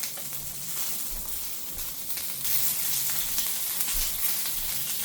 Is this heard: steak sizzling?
yes